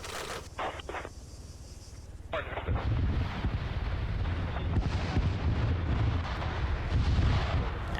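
Grenade launchers firing in a military video game operation, heard as heavy booming blasts with a dense roar of explosions and rumble that builds after a quieter opening with a few sharp reports.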